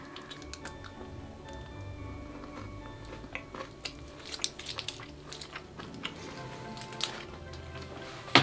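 Someone chews a chocolate with a crunchy filling close to the microphone, with a dense run of small crunches, clicks and moist mouth sounds over several seconds and no talking.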